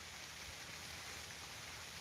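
Steady broadband rush of water flowing through a flooded soybean field, continuous and even throughout with no voices.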